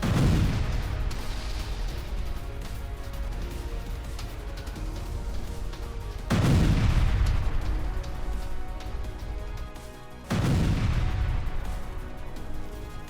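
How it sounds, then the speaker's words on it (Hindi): Three heavy booming explosions of Russian mines hit in a rocket launcher attack, each a deep low rumble that swells and slowly fades, spaced several seconds apart with no voices. "इस हमले से रशियन माइंस में विस्फोट की तस्वीर देखिए"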